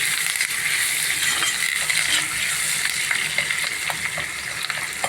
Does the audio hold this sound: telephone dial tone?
no